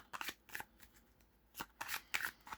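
Tarot cards shuffled up close in a series of quick, crisp riffling bursts separated by short pauses, with no talking.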